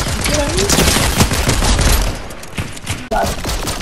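Gunfire in the Fortnite video game, a loud dense rattle of rapid shots from several weapons that runs through the whole clip, with voices speaking briefly over it.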